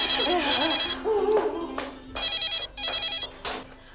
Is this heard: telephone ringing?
yes